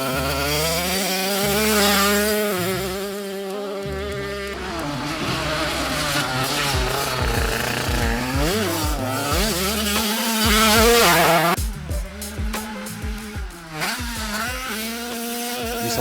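A Peugeot 50cc motorcycle engine tuned toward 30 horsepower, revving high with a loud, buzzing whine that climbs and falls through repeated sweeps, close up and sustained, ending in choppier blips.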